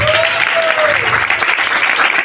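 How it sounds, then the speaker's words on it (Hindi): Audience applause fills a church Christmas program, a steady dense wash of clapping from a crowd, loud and continuous, with a brief voice tone briefly audible early on. "तो आइए अपने लिए जोरदार तालियां बजाइए"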